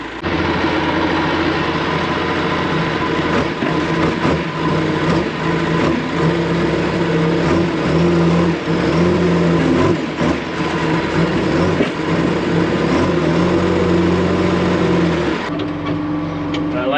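A backhoe engine runs steadily at close range on a cold day, a continuous loud diesel drone with low harmonic hum that holds throughout and shifts slightly near the end.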